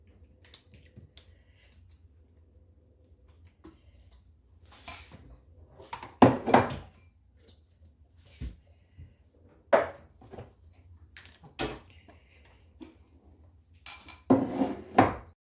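Fresh ground tomato sauce being spread across a lasagne baking dish with a utensil, giving soft scraping and light clinks of metal on the dish in scattered bursts, quiet and close, with no talk.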